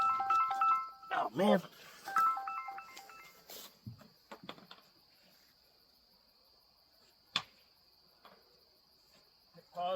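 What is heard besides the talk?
phone ringing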